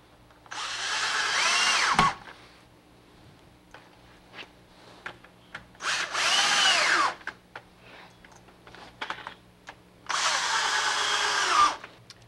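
A power drill drives screws into a floor strip while a door booth is put together, with three separate long whirring bursts between quieter clicks and handling noises, heard up close and with no talking.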